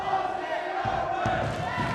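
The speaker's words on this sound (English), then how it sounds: "It's the crowd, the Aussie Open fans are getting behind them." A wrestling crowd at a PWA tag-team match cheers and roars in support of Aussie Open, a sustained, fairly distant swell of voices with a commentator's voice faintly underneath.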